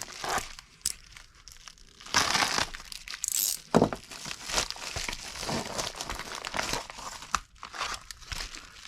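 A package containing a Graham Engineering gauge model kit is cut open and unpacked: irregular bursts of crinkling, tearing and rustling packaging, loud and close, with short quiet gaps between handling sounds.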